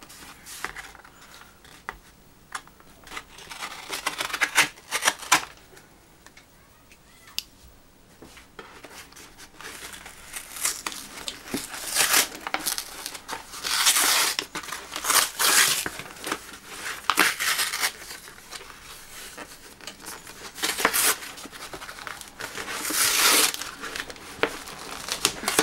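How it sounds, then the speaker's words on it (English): A knife cutting open a cardboard Amazon package, heard up close as intermittent crinkling, tearing and scraping bursts that grow busier and louder partway through, with no speech. "Let's just get the knife and cut it."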